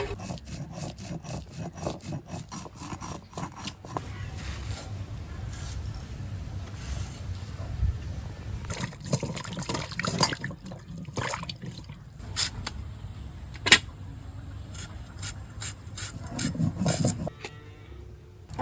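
Roasted whole spices being ground, a steady gritty whirring and rasping grind that runs continuously for a long stretch, fairly quiet and close, with occasional sharper knocks and no talking.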